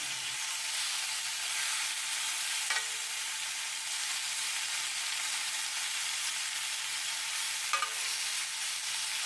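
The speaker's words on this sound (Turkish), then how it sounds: "Ben hemen buraya şöyle tereyağımı etin üzerinden veriyorum" Butter sizzles in a pan as it is spooned over beef tenderloin, a loud, dense, continuous frying hiss with two faint clinks of the spoon; no voices.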